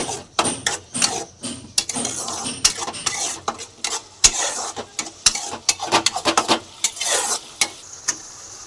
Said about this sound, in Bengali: এবার আমি এর মধ্যে দিয়ে দেবো একটু সামান্য ঘি, দেবো সামান্য একটু গরম মশলা গুঁড়ো দিয়ে একটু ভালোভাবে এটা নাড়িয়ে নেবো।